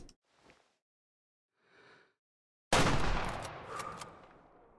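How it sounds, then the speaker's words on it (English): A single loud rifle shot fired at a lion in the hunting game Way of the Hunter, a sharp crack after near-silence and faint breaths, followed by a long fading echo. "We might as well send a shot into that 1-star adult."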